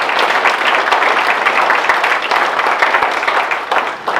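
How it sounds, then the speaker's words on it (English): Dense, steady applause fills a hall at a Bare Knuckle FC event for two men on stage, a loud, continuous wash of many hands with no clear gaps or voices. "One more time, a great round of applause for Scott and Joe."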